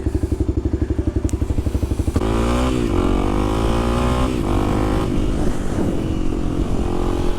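A 2024 Kawasaki KLX300SM supermoto with nearly 1,200 miles, its single-cylinder engine thumping loud and close at a pulsing idle before revving up and pulling away in rising and falling throttle sweeps.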